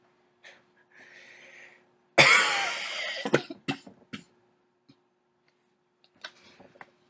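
A harsh, close cough burst followed by a few shorter coughs and throat clearing, with quiet breathing and small clicks around it.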